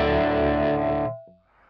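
A guitar played through a modeled Laney amp with cabinet simulation on a Line 6 HX Effects unit rings out as one loud, distorted chord that holds for about a second, then cuts off with a short fading tail.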